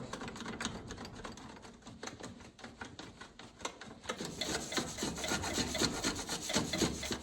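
A wrench works a rusty brake line nut back and forth on a disc brake job, making continuous gritty rasping and creaking, close up and steady, growing slightly louder toward the end with no talk.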